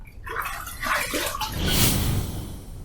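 Running water splashes and gurgles from a tap while a face is rinsed after a wet shave, a close, continuous wash of sound with no talking.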